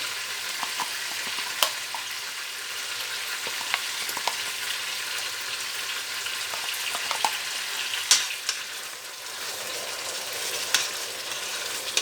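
Masala mixed with a spoonful of yogurt frying in a pan for aloo baingan sabzi, a steady close hiss of sizzling with occasional soft stirring scrapes and small pops throughout.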